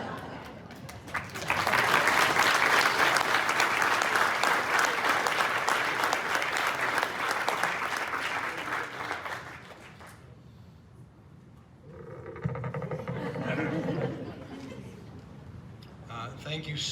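Audience applause and hand clapping at a community awards evening, a dense wash of many hands lasting about eight seconds before fading, followed by a voice speaking over a quieter room.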